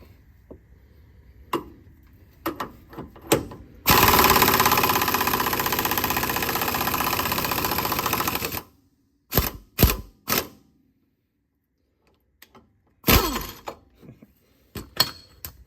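An air impact wrench fed at 130 psi hammers on a pitman arm puller in one loud, sustained burst of about five seconds, followed by several short sharp rattling bursts and clanks at close range, with no talking.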